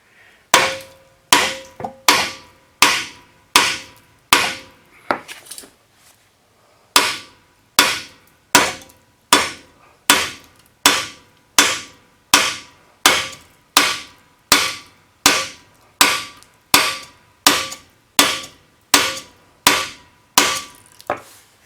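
A hammer strikes the bolt heads on a neglected, rusty Honda CR-V: about twenty loud, sharp metallic blows in a steady rhythm, with a brief pause partway through, close up and with no talking.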